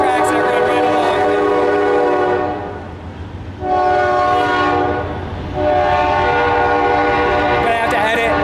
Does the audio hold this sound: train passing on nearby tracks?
yes